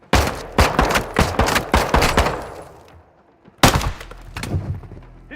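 Heavy gunfire rings out in a Valorant esports match, including shotgun blasts: loud close bursts of shots, a short lull, then another volley of sharp reports.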